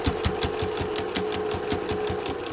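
A sewing machine stitches back over a seam near a zipper on a large pouch bag, reinforcing it with a rapid, even needle chatter and a steady motor hum, close and loud.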